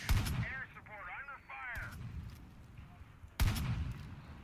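Gunfire in the Far Cry 5 video game: a short loud burst of shots at the start and another at the end, with a voice speaking in between.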